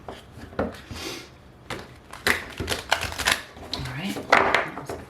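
Tarot cards are shuffled by hand in a run of quick riffling and tapping bursts, close and fairly quiet, with a voice speaking between them.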